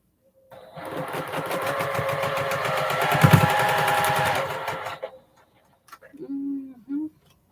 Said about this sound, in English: But this time I have on my 1/4 inch foot for sewing. And I just run a seam.